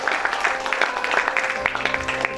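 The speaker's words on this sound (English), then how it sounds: "A big round of applause to all the partner organizations, ladies and gentlemen" Audience clapping at a 125th birth anniversary event for Netaji Subhas Chandra Bose, a steady, moderately loud patter of many hands with a faint voice underneath.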